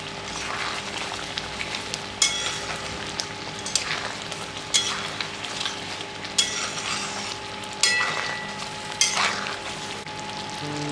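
Potato and egg kofta frying in a pan give a steady loud sizzle, with spoon scrapes and stirring clatter recurring every second or two, close up and without speech.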